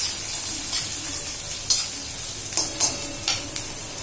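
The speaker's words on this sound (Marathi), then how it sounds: "आता हे सगळं आपल्याला घालून घ्यायचंय, कांदा, मिरची वगैरे। छान परतून पण घ्यायचंय।" Onion and chilli sizzle in a pan with a steady soft hiss, broken by several light scraping clicks of a spoon stirring, close by and with no voices.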